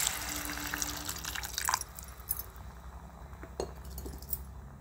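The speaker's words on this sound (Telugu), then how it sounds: "ఇప్పుడైతే ముందుగా నానబెట్టుకున్న చింతపండు పులుసు అయితే పోసేసుకుందాము" Soaked tamarind water poured into a pan, with a soft liquid splash and trickle followed by a few light clinks of utensils, close and fairly quiet.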